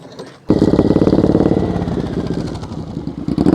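Motorcycle engine at slow speed on a serpentine practice course, idling softly at first, then loud and close with a steady rapid throb and small throttle surges for the rest.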